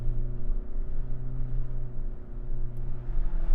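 A 2025 Hyundai Ioniq 5 N in race mode on a racetrack plays its synthetic engine sound, a loud, steady, layered droning tone that holds without a break, with no talking.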